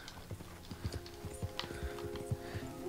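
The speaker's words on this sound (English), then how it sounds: "A horse goes too fast." Horse hooves gallop in Red Dead Redemption 2, a steady rhythm of close, thudding hoofbeats about every half second, with faint game sounds and a low drone behind.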